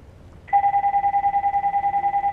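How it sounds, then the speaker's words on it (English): A phone rings nearby during Minecraft Story Mode gameplay, a loud electronic warbling tone that starts abruptly and pulses rapidly and evenly after a moment of quiet background hum. "Disregard the phone noise."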